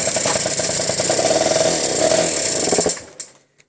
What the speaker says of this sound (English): Let's try to kick it over now that we waited a minute again.